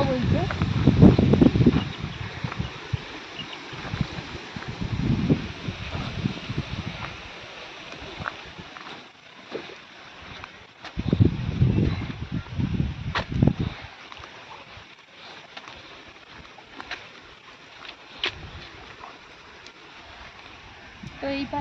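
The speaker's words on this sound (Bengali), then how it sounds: "আর আজকে প্রচুর ঝোড়ো হাওয়া বইছে।" Strong stormy wind beside the Matla river, gusting in loud buffeting bursts against the microphone with lulls between, while a person talks through much of it.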